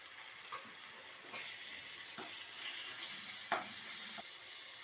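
Green chilies, dried red chilies, mint and curry leaves sizzle in oil with ginger-garlic paste in a pan, a steady loud frying hiss with occasional stirring scrapes throughout.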